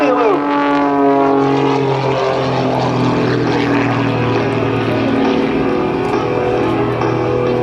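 A propeller aerobatic airplane engine drones loudly and steadily at an air show, its pitch sliding gradually downward as it slows, with a voice talking over it.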